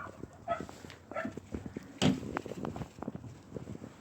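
A dog barks and whimpers in short, uneven bursts, with one louder bark in the middle and restless yelps scattered around it, close to the microphone with no talk.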